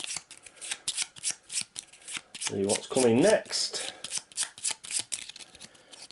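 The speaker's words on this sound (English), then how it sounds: "Then we've got to give these a shuffle." A deck of game cards for the Sword & Sorcery board game is riffled and shuffled in a rapid run of crisp, close snaps, then cut. A voice speaks briefly over the middle of the shuffling.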